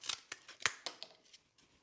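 Lineman's snips chop through heavy cardboard in a series of sharp, close snipping crunches, roughly one every quarter second, that taper off toward the end with no talk.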